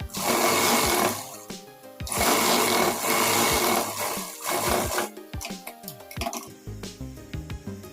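Sewing machine stitching a seam on a salwar belt: loud, continuous whirring runs broken by short pauses, then quicker stop-start bursts of stitching near the end, with no voices.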